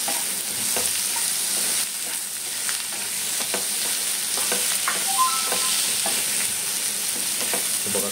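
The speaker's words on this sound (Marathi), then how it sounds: "हे आपण कलेजी घातलेली आहे मस्तपैकी आपण" Mutton liver (kalegi) fries in a pan with salt, masala, ginger-garlic paste, lemon and coriander-cumin powder, giving a steady close sizzle broken by occasional stirring scrapes, with no talking.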